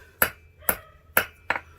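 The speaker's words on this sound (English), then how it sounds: "if I want this to come up, I hammer to it, to the edge" Light metallic taps of a small hammer on the edge of a copper bangle, four or five evenly spaced ringing strikes on thin metal, close and moderately loud.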